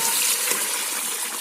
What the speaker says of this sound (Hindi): ये 2 गिलास चावल हैं, इसमें हम अब 4 गिलास पानी ऐड करेंगे।